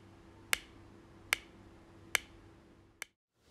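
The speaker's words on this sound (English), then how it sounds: "Glass lenses make a high-pitched ringing sound. And plastic lenses have a more damp and low-pitched sound." Four sharp taps on a glass spectacle lens, each a bright, short ringing click spaced about a second apart, close and alone over a faint steady hum.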